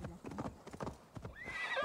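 Horse hooves clip-clop in quick steps, then a horse whinnies, in the Assassin's Creed Valhalla video game, faint and brief.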